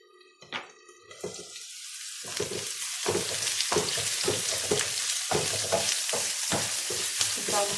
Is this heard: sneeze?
no